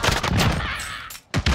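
Shotgun blasts in an online shooter game, loud sharp reports with a brief gap near the end before another burst, close and dense.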